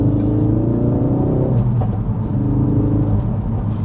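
A Ford Focus RS Edition pulls away hard in first gear, a loud low engine rumble and rising drone that shifts tone midway, heard from inside the car without talking.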